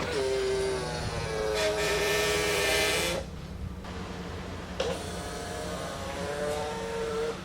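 Power-folding side mirrors on a 2001 BMW E39 M5 whir in a quiet shop, two separate thin electric motor whines of about three seconds each, split by a brief pause and a faint click.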